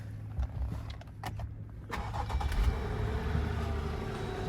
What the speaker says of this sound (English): Let's go ahead and see if we can crank it up.